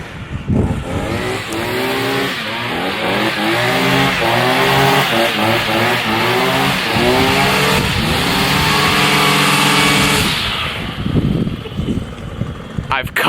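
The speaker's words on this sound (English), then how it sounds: "It sounds like trimmer engines." Gas string trimmers, including Stihl FS 94 and FS 90, a Husqvarna 326 and a Toro straight-shaft model, run loud and close with their buzzing pitch climbing and falling over repeated revs.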